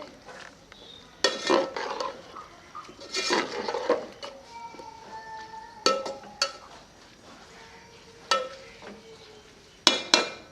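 A spoon stirs chopped ojri (tripe) with finely cut green chilies in a metal pot, with intermittent scraping clatters and clinks between quieter mixing, close by and without talk.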